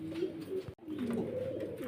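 English Trumpeter pigeons coo steadily and close by at a fancy pigeon farm, a layered, rolling murmur of several birds that breaks off for an instant midway before resuming.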